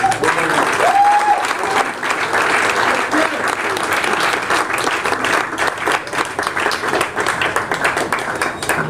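An audience at a literary cross-reading event applauds steadily, a dense, even wash of many hands clapping throughout, with a brief voice near the start.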